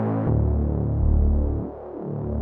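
A Reese bass preset built from a saw wavetable in the Serum synth drones as a low, thick, throbbing tone, its detuned phasing slowly beating and shifting over a short sustained note.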